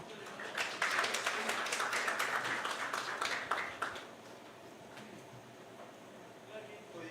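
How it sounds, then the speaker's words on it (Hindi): An audience at a Chhattisgarh youth forum event claps loudly, a burst of dense applause that holds for several seconds and then drops away to quiet room tone. "एक बार जोरदार तालियां बजाइए।"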